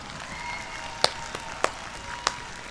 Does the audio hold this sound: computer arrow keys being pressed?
no